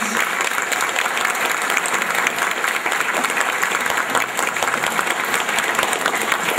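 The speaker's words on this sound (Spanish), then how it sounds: "Vamos a regalarles un aplauso a estos dos papás." Sustained applause from a church congregation at a Catholic Mass, celebrating new parents; steady, dense clapping that fills the space for several seconds without a break.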